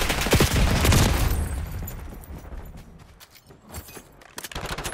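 Concussion grenade and gunfire in Call of Duty: Black Ops 6 multiplayer, a loud burst of rapid gunshots and a blast up front that fades into quieter scattered shots, with a fresh flurry at the end.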